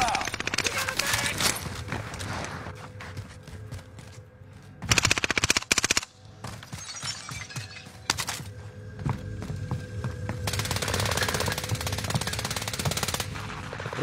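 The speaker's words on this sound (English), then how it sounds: "What are we shooting at?" Bursts of automatic gunfire rattle in Call of Duty: Warzone 2.0, a long rapid volley midway and heavier sustained fire near the end, with players talking over the game action.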